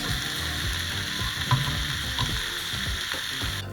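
Pork tenderloin browns in a hot pan with a steady, close, dense sizzle and crackle throughout, with a few scraping clicks, no talking.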